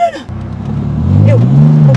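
A tuned BMW M3 launches hard from a stop, its engine note climbing steadily in pitch and loudness as it accelerates, with a brief voice early on and the engine dominating close by.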